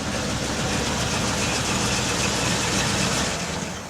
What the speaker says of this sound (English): Then push the black button to start, and the motor starts and runs.